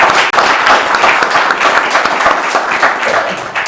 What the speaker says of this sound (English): this is that moment when you can clap for both candidates